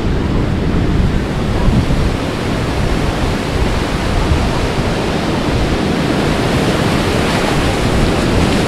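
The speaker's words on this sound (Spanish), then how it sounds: "Oh, me encanta el mar." Sea waves wash onto a calm beach on the Costa del Sol in El Salvador, a steady, loud, unbroken roar of surf throughout with no voices.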